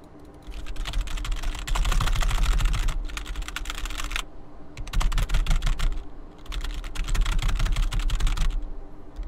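Rapid, clattering keystrokes on a gaming computer keyboard whose space bar and keys are failing, typed in three dense bursts separated by short pauses, close and fairly loud with steady low background hum.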